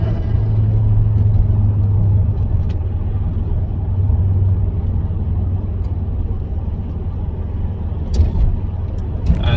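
A turbocharged car engine idling with a steady low rumble, loud and close, holding an even drone with slight variations and a few faint clicks near the end, no talk.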